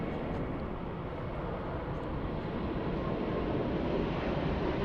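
Delta Airbus A321neo airliner, Flight 413, rolling for takeoff at Los Angeles International Airport, a steady broad roar of engine noise and rushing air heard from a distance, with no speech over it.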